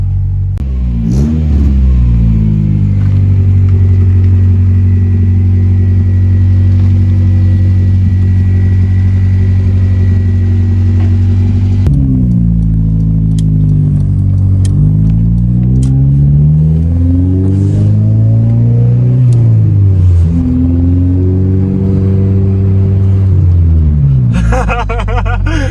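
A Honda Civic EF with a B16 engine pulls away and accelerates, its engine note climbing through repeated rising revs and gear changes, loud and close from inside the car.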